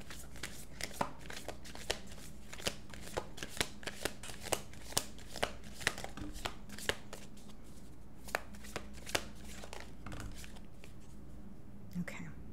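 A deck of tarot cards being shuffled, steady rhythmic riffling snaps repeating close by, with soft talking underneath at times.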